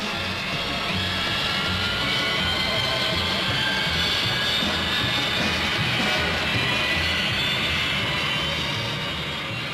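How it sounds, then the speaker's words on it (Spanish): An Aérotrain test vehicle's aircraft jet engine gives thrust on its test track at up to about 185 mph, a loud, steady, broadband roar that holds unbroken throughout. "An aircraft jet engine gives initial thrust up to speeds of around 185 miles per hour"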